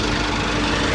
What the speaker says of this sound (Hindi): इंजन अभी रनिंग में है।